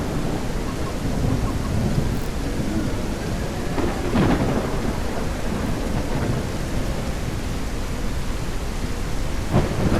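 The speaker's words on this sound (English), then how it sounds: "Storm did not pass." Thunderstorm in Mist Survival, with heavy steady rain hissing throughout and low rolling thunder swelling in the middle, loud and enveloping, no voices.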